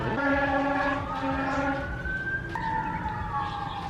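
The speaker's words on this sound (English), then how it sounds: "And I hear sirens again." A siren wails with rising and falling tones, loud and steady, then shifts pitch partway through as another siren joins, with no voices.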